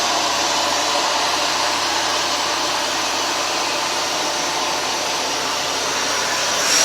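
A Hoover Dual Power Max carpet cleaner runs steadily throughout, a loud, continuous motor whine with an airy suction roar, close and unbroken, with no one speaking.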